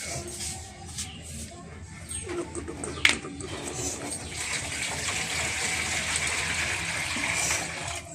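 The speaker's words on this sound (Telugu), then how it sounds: "ఇదిగో చూడండి, వాటర్ ఇలా పక్షులకు పెడదాం రండి" Water is poured out into a dish for birds outdoors under shady branches, a soft continuous splashing rush that grows steadier midway, with faint background noise and no clear talk.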